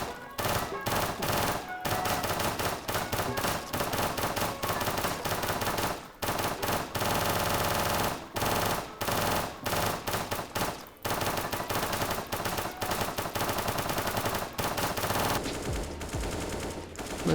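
Rapid, loud bursts of AK rifle fire in the video game CS:GO, crackling in long automatic strings broken by short pauses, with the sound thinning out near the end.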